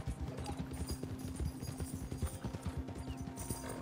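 Horse hooves clip-clopping in Red Dead Redemption Online, a steady close rhythmic trot of crisp hoof beats running throughout at moderate volume.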